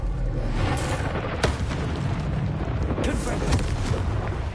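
An Incendio fire spell cast in Hogwarts Legacy: a sustained roaring, crackling blast with sharp booming bursts scattered through it, loud and close, with a voice present in the mix.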